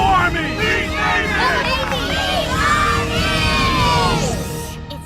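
A crowd at a sporting event cheers and yells loudly, a dense wash of shouting voices and whoops that swells and holds for several seconds before easing off at the end.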